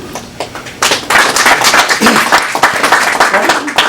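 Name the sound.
audience applause at scholarship fund event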